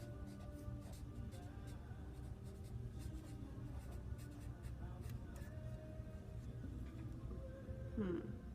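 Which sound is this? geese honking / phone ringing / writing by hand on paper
writing by hand on paper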